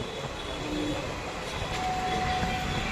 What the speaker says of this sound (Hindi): तो ये अपनी ट्रेन पहुंच रही है अलीगढ़ जंक्शन